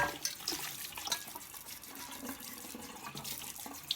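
Running tap water splashing over a cooking pan being rinsed in a kitchen sink, soft and continuous with small drips and clinks, no voices.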